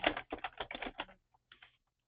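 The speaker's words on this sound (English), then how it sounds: "we can start typing in" Rapid keystrokes on a computer keyboard during a software data-entry session, a quick burst of close, crisp clicks followed by a pause and a few more scattered taps, with no talk.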